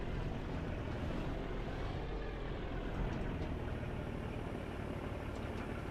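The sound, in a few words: aircraft engine from a flight simulator video game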